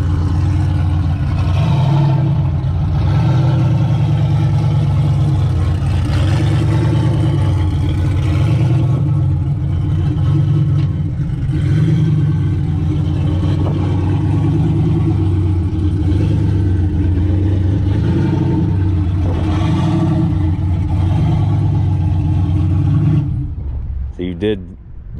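A turbocharged LS-swapped, rear-wheel-drive-converted Impala SS rolls onto pavement, its engine idling and burbling low and steady close by while people talk over it.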